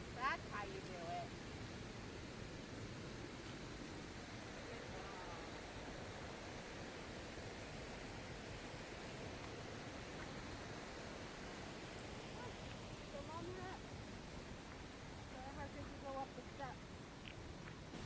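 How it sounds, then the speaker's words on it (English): Rushing water of the McKenzie River near Oregon's twin waterfalls, a steady broadband roar heard from a forest parking lot, continuous and moderately loud throughout with faint incidental sounds on top. "You can hear the McKenzie River from the parking lot."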